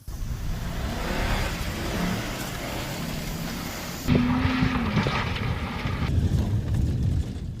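Land Rover engines rev and accelerate hard up a hill at the start of a low-budget drag race, a loud sustained roar that surges again halfway through with rising engine tones.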